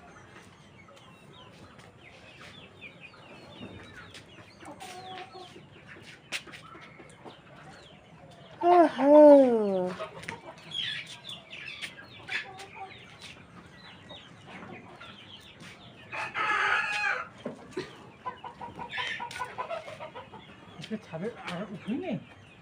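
Backyard chickens cluck at evening feeding time, with a loud rooster crow around the middle and more clucking bursts afterward, while people talk nearby throughout.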